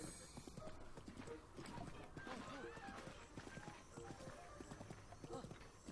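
Horse hooves clip-clop steadily in Zelda: Breath of the Wild as the horse trots along, a continuous rhythmic patter layered with game music and ambience, with someone talking over it.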